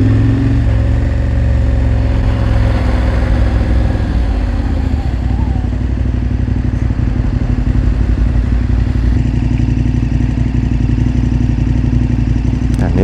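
A KTM 1290 Super Adventure R motorcycle engine runs steadily throughout, a loud continuous low drone with a slight shift in pitch midway, as if idling or rolling slowly.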